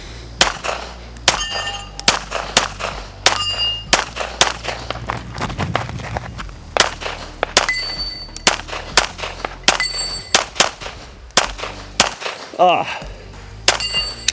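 Pistol shots from a Gibson Custom handgun ring out one after another against steel targets, each crack followed by a bright metallic clang, spaced irregularly over several seconds with a short exclamation from a person.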